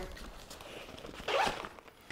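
A zipper pulled open on a small pocket of a Wisport Sparrow Egg 10L backpack, one short, quiet rasp close by, rising briefly and fading, with no talking.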